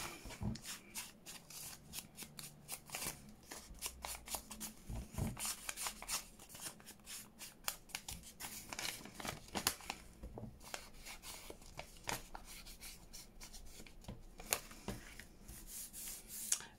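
Paper being cut and torn with a fingernail while working on a handmade junk journal, giving close, repeated scratchy rustles and short tearing scrapes in an irregular rhythm, with no talking.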